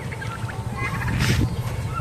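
Several turkeys gobble close by, overlapping rattling calls rising and falling over a low background rumble.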